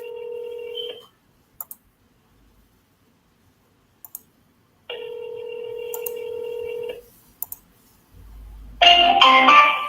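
A phone call is dialed: a steady tone plays, short dialing clicks follow, then a long ringback tone, more clicks, and finally a loud burst of noisy electronic signal.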